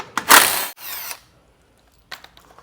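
A power tool spins briefly and loudly on a front crossbar bolt of a 2024-25 Hyundai Santa Fe, then stops, followed by faint clicks and light metallic taps.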